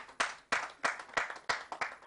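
About eight sharp, evenly spaced claps ring out at an outdoor broadcast event, fairly close and moderately loud, forming a slow rhythmic clap without other sound.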